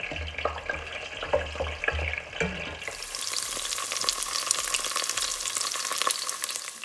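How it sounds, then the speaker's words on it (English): Garlic frying in a pan over medium heat, a steady close sizzle with occasional stirring scrapes that grows brighter and denser partway through, with no voices. "while we're waiting for the garlic to cook"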